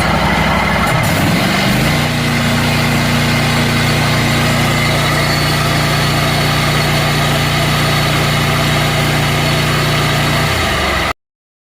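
A riding lawn mower engine revs up from a brief start and holds a steady, loud high-RPM drone for about nine seconds before cutting off abruptly, with no talking.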